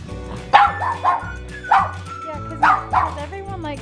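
A puppy barks repeatedly at its owner for a toy, several sharp close barks in clusters with short pauses, with a person talking in between.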